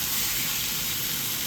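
Water poured into a hot pan of frying potatoes sets off a loud, broad hissing burst of steam that holds steady and close throughout, with no one talking.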